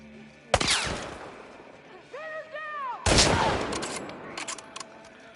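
Rifle fire in the video game The Last of Us Part 2: two sharp loud bursts of shots about two and a half seconds apart, with a brief electronic tone between and scattered smaller cracks after.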